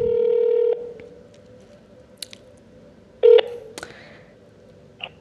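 Mobile phone placing a call: a sustained electronic tone, then quiet line hiss with faint clicks, followed by a short second beep and a few small ticks.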